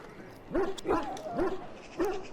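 A dog in the video game Dragon Age: Origins gives four sharp, close barks in an uneven rhythm, with short whimpering yips between them.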